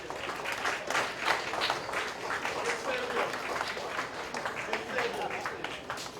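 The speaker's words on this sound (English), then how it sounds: "a special round of applause for Debbie Gavaya." A crowd at an airline's 20th anniversary cocktail reception claps steadily for several seconds, a dense, even patter of many hands with faint voices mixed in.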